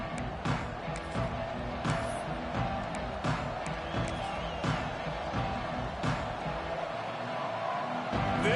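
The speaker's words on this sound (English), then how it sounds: "This crowd ready to make its presence known." A football stadium crowd at an OU versus LSU game keeps up a dense, steady roar with scattered sharp bangs and whoops, a continuous wash of distant cheering that fills the whole stretch.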